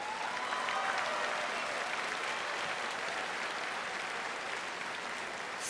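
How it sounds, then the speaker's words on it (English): Steady audience applause at the BlizzCon closing ceremony fills the whole stretch, an even wash of many hands clapping at moderate volume. "Let's give them a big round of applause for an incredible performance this weekend."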